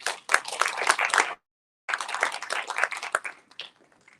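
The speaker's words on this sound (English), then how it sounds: "Kindly give yourself a round of applause." Applause from an audience at a product launch, dense clapping rising for about a second, a short break, then a second longer burst that thins out toward the end.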